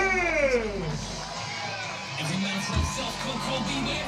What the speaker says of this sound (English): The crowd goes mad.